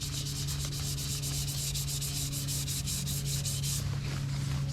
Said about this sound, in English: I got some 1000 grit. I'm hitting this epoxy with.